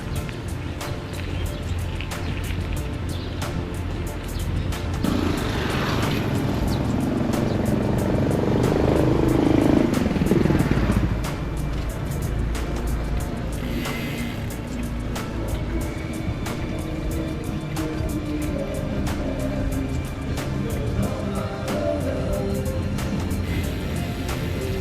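A motorcycle passes close behind a bicycle on a roadside by a canal, its engine swelling to a peak then fading, amid steady road and wind noise.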